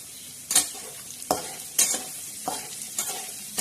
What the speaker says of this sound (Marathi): तडक्यासाठी त्या लाल मिरच्या टाकणार आहोत